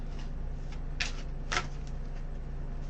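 Tarot cards are handled in a quiet room: two crisp, brief riffles or slaps about half a second apart, with softer card rustles around them, close and clear with no talking.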